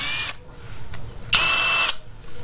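A brushless impact driver bores with a 1-inch spade bit, giving two short bursts of high-pitched motor whine separated by a brief quiet gap, close and fairly loud.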